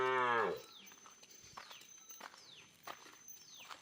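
A buffalo lows once, loud and close, at the start in a field, followed by quieter rustling steps and faint scattered bird calls.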